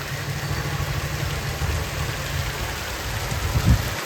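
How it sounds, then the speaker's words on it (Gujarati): Torrential downpour pouring off rooftops into a small street drain, a dense, loud, unbroken wash of falling and rushing water with a low rumbling undertone throughout. "જો અત્યારે જે વરસાદ આવે છે ને એનું રુદ્ર સ્વરૂપ છે"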